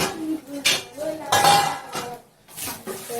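Metal lid set on and shifted over a pot of khichdi on a home stove, giving several clinks and scrapes with short pauses, mid-loud and close, with a voice heard faintly in between.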